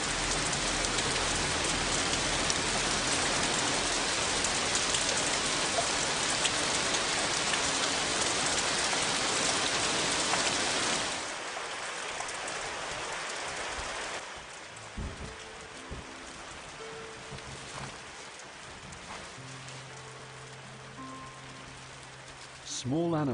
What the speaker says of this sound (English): When the rain arrives, a year's work can fall in a single night.